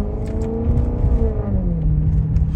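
A Maserati Quattroporte GTS cruising, its engine a loud, steady, deep drone with smooth rising and falling harmonic tones as the revs shift, heard from inside the car.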